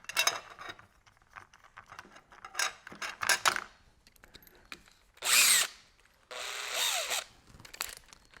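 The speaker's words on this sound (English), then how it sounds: "So I'm going to drill out those holes we've done because we've filled them with a bit of plastic." A power drill bores out plastic-filled holes in a kayak, running in short bursts of whining spin with brief pauses between them, close and moderately loud.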